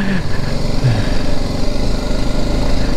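A BMW G310GS motorcycle engine drones steadily and loudly while the bike rides through water on a jungle track, a continuous close engine rumble without pause.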